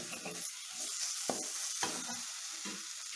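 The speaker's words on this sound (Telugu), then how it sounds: "ఒక చుక్క నూనె వేసుకొని ఇలా కలిపేసుకుంటే ఉడికిపోయింది" Gongura and drumstick leaf chutney gets stirred in a pan with a drop of oil, a spoon scraping in a few separate strokes over a soft steady sizzle, close and quiet.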